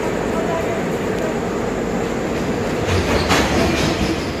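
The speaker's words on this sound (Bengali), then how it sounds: "জব্বলপুর এক্সপ্রেস খুব ভালো ট্রেন" The Jabalpur Express at Rampurhat railway station makes a loud, continuous rumble with a clattering roll of wheels and carriages, heard up close and never pausing.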